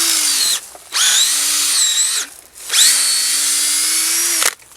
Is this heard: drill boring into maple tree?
yes